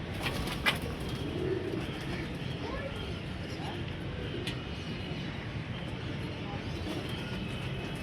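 Racing pigeons coo and flap their wings at a rooftop loft during a pigeon-flying contest, soft and partly buried under steady outdoor noise, with a brief flutter near the start.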